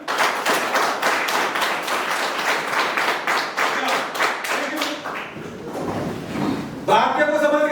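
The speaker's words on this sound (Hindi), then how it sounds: "सबके लिए जोरदार तालियां।" Students in a classroom clap together in a rhythmic burst of sharp, evenly spaced claps that fade out after about five seconds, followed by a short lull and then a voice speaking.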